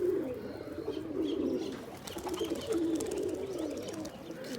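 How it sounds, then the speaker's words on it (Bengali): An original Giribaj pigeon in Rajshahi gives a run of soft, rolling coos that repeat for several seconds, fairly faint against a light background hiss. "এই কবুতরটা অরিজিনাল গিরিবাজ কবুতর"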